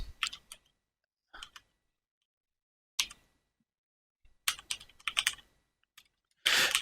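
Keystrokes on a computer keyboard come in short irregular bursts separated by pauses, crisp and close, ending in a denser run of typing.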